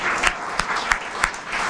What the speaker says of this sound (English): You just got an applause too